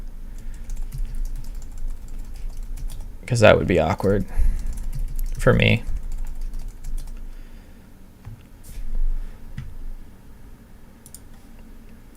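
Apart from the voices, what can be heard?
typing a password on a computer keyboard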